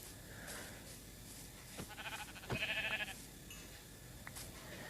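A sheep in the video game Minecraft bleats, a short wavering baa standing out over a steady hiss of game ambience.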